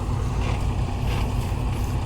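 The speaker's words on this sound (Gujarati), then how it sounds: "આ આપણું ટ્રેક્ટર એ સીપિયાવાળું એ હાલતું" A farm tractor with its engine running at dawn before a planting job, a loud, steady low chugging drone close by with no talk.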